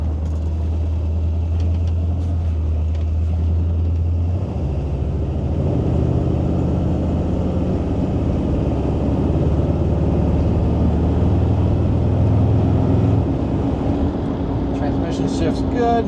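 A Ford Fairlane Crown Victoria with a transparent top drives down the road with its windows up. A steady, close, low engine and road rumble continues throughout, shifting slightly partway through.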